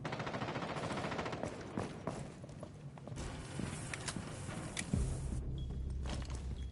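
Shootout gunfire in a first-person video game match, rapid cracking shots and short bursts scattered through the clip amid footstep-like clatter, fairly quiet overall with a heavier impact near the end.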